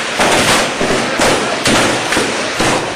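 Rapid bursts of gunfire as security forces fire on a house where militants are hiding during an encounter in Pulwama, Kashmir. The loud, sharp cracks come in repeated volleys across the whole clip, with no one speaking.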